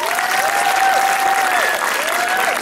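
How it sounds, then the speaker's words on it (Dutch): A crowd at a Miss Noord Holland pageant applauds loudly and continuously, with a sustained musical tone sliding and wavering on top of the clapping. "Applaus voor hun allebei."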